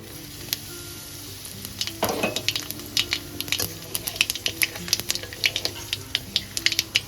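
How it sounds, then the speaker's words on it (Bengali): Nigella seeds and three dried red chilies sizzle and crackle in hot oil, with a steady hiss and rapid sharp pops up close. "ওই তেলের মধ্যেই দিয়ে দেব হাফ চামচ কালো জিরে আর তিনটে শুকনো লঙ্কাকে ফাটিয়ে নিয়েছি ফোড়নে"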